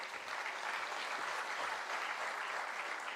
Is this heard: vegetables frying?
no